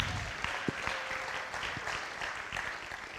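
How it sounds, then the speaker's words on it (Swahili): Audience applause at a music launch event, a steady sustained wash of many hands clapping together, fairly distant and even throughout with no talking over it. "Tumpigie tena makofi."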